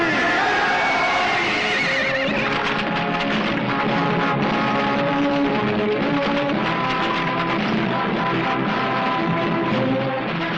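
Horses neigh and whinny loudly, with several overlapping calls and some hoof clatter in a busy, dense mix that holds steady throughout.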